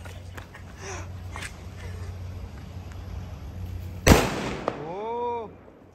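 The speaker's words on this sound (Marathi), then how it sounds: "आम्ही लोक आता फटाके फोडायला जातोय" Firecrackers set off outdoors: one sharp close bang lands near the end, then a shorter pop and a rising whistle, over a low background rumble.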